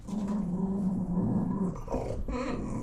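Dogs growl low and steadily at close range, breaking into a few high whimpers toward the end, with no talking over them.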